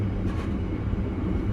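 The KA Sri Tanjung passenger train runs at speed over upgraded track between Wonokromo and Bangil, giving a steady, loud rumble and rail roar, heard from inside the train with no talk.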